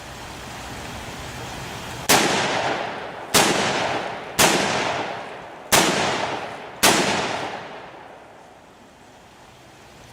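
Five loud .44 Magnum revolver shots crack out one at a time, about a second apart, and each sharp blast rings off in a long echoing decay, with no talking.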